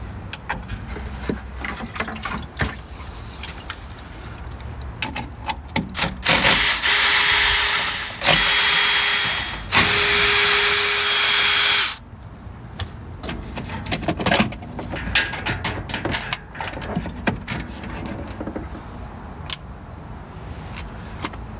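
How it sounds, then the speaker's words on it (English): A power tool spins out 8mm bolts beneath a 2017-or-later Ford 6.7 diesel's fuel filter assembly. It runs in two or three short close bursts, separated by clicks, ratcheting and handling clatter. "There are 5 8mm bolts under here. They only torque to 7 foot-pounds. They are not tight. Simply run them out."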